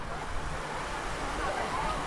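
Gentle sea waves wash onto a short white-sand swimming beach at Cala Font on Mallorca, a steady broadband surf wash with faint wind noise running through the whole stretch.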